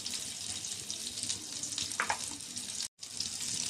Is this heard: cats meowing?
no